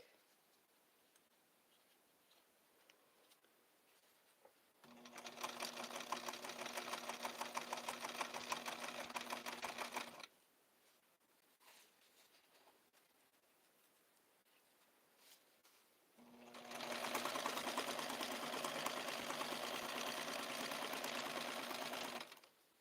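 A sewing machine stitches odd, textured blue coat fabric in two rapid, rattling bursts of about five and six seconds each, separated by quiet pauses with faint handling of the cloth.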